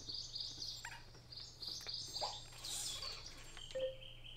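Small birds in the garden-building game Viva Pinata chirp in quick bright bursts of tweets, repeated several times over a quiet background hum, fairly close and clear.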